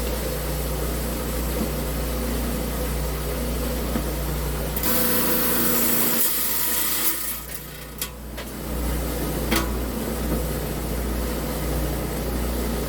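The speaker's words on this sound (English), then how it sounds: "we will be cutting this on a high-tech diamond 10-inch slab saw" A high-tech diamond 10-inch slab saw cuts through stone with a steady, close whine and broadband hiss over a constant low hum, briefly dipping and shifting partway through.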